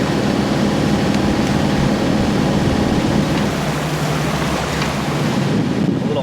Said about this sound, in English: So much current running through it.